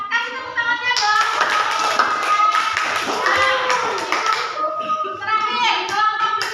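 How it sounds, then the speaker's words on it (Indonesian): Students in a classroom clap together for a student group that has just presented, a dense, steady burst of hand claps lasting several seconds, with children's voices mixed in underneath. "Kasih tepuk tangannya dong."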